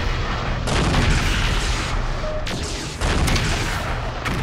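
Dense, continuous gunfire and booming explosions from a MechCommander battle, a steady loud barrage of overlapping shots and blasts with no pauses.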